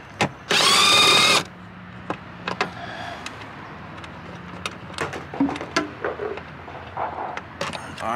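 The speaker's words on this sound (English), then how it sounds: "you don't need this impact, but I just like to use it right here to take these screws out for the relay box" An impact driver takes out the relay box screws on a 2004-2009 Toyota Prius in one loud, close burst of about a second, followed by scattered clicks, taps and handling noises of parts and tools.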